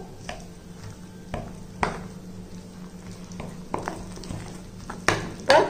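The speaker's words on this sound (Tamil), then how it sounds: "இதை எல்லாத்தையும் நல்லா மிக்ஸ் பண்ணிக்கிடுவோம்." Dosa batter with pink salt being mixed in a bowl, with occasional spoon taps and clinks against the vessel and soft stirring between them, close and fairly quiet.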